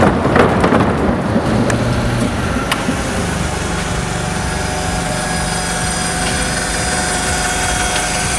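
Seed beans spill and rattle out of a bounced seed box, a dense hissing patter under steady machinery hum, loudest at the start and then settling into a continuous rushing noise.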